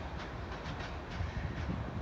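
A train rolls along railroad tracks, a steady low rumble with faint rhythmic clatter, somewhat distant and continuous throughout.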